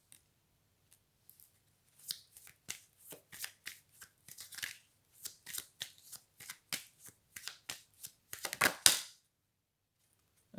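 Tarot cards are shuffled close up in a quiet room, making a run of crisp riffling and slapping bursts that build to a dense flutter near the end, with no talk.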